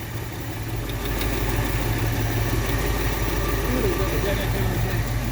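The engine of a 1959 Ford Fairlane 500 idles steadily up close, giving a continuous low, even rumble with slight vibration, and a voice talks faintly over it.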